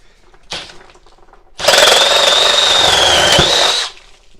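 Milwaukee M12 FUEL hammer drill boring a hole, a short burst followed by a loud, steady high-pitched whine for about two seconds before it stops abruptly, heard up close.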